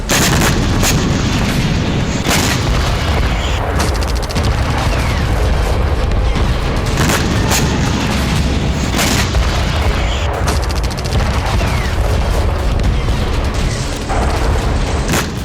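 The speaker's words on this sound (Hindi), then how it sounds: "रूस ने भीषण बारूदी प्रहार किया।" Heavy artillery bombardment and explosions during the Russia-Ukraine war, a dense, loud, continuous barrage of booms and sharp blasts with repeated impacts throughout and no voices.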